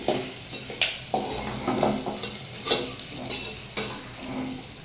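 Mung dal dry-fries in a pan while a spoon stirs it, giving a soft steady sizzle broken by repeated scraping strokes and light clinks against the metal, with no talking.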